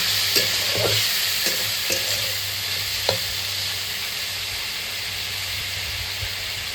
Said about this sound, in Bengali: এবার আমি চিংড়ি মাছগুলো দিয়ে ভেজে নেব।